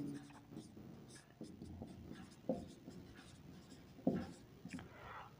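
Someone writes out a math solution on a board, producing quiet scratchy strokes and a few sharper taps, with faint background murmur.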